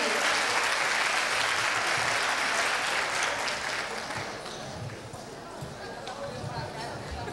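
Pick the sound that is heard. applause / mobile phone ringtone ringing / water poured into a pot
applause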